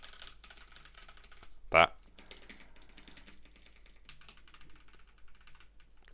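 Fast typing on a normal computer keyboard patters in a dense, quiet clatter of keystrokes, with a single louder thump partway through and a few spoken words.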